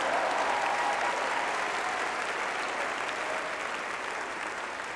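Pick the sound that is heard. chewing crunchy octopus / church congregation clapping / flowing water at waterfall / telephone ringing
church congregation clapping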